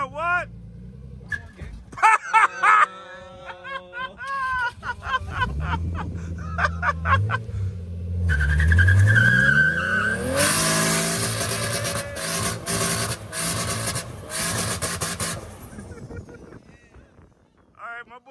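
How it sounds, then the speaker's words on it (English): A Subaru Outback fitted with new coilovers does a burnout, its engine revving loudly and tires squealing in a long rising skid mixed with cheering voices. "This is gonna be my first burnout attack."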